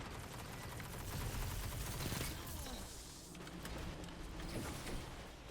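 Rapid 110 hand cannon fire in Destiny 2's multiplayer, a quick burst of sharp game shots layered over a busy, dense mix of in-game ambience, with no voices.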